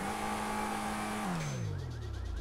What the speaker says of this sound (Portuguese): olha o barulhinho do carro, ó, o turbão